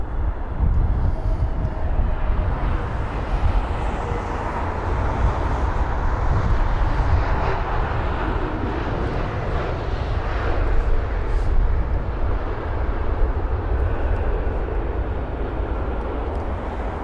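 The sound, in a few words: Iberia Airbus A320neo jet aircraft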